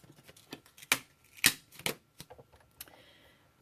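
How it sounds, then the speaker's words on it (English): A Big Shot die-cutting machine cuts out a paper octopus shape, giving sharp clicks and clacks in an uneven rhythm, several louder snaps among fainter ticks, close by. "now we're going to bring the Big Shot back because we're going to cut out the little octopus"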